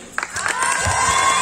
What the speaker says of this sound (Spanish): Fuerte el aplauso para la bellísima Yoseimar González.